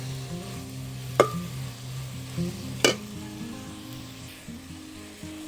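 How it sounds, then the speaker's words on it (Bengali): Puti fish cooked with sour leaves is stirred and fried in a pan, with a soft sizzle under a low hum, two sharp spatula knocks, and gentle scraping throughout, with no talking. "এটা একটু হালকা নেড়ে চেড়ে একটু কষিয়ে নিব ভালো করে"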